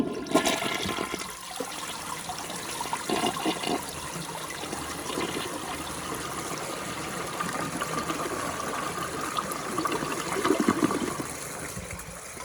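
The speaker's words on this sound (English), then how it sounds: "So I'll give it one last flush," A 1956 Case Camel toilet in blue flushes with its handle held open, giving a loud rushing gush that settles into a long, steady stream of running and refilling water.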